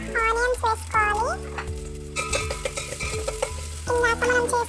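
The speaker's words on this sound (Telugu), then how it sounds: "ఆయిల్ కొంచెం హీట్ అయ్యాక ఆనియన్స్ వేసుకోవాలి." Onions sizzle and get stirred in hot oil in a pot while making Rayalaseema-style dalcha, with a steady frying hiss and scraping stirs beneath sung or spoken vocal sounds that come and go.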